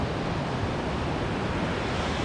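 Waves rolling onto a beach at Ventura, a continuous broad surf roar mixed with wind buffeting the microphone.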